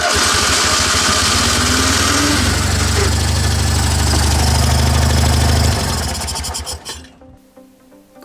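A Fiat Polski 126p (Maluch), serviced for the first time in 20 years, cranks and starts, then runs with a loud, rough, buzzing rattle for several seconds before the engine dies away and falls quiet.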